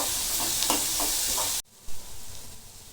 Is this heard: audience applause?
no